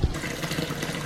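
Hot water runs from a kitchen tap in Dubai, a steady close splashing gush that starts with a brief thump and continues evenly throughout.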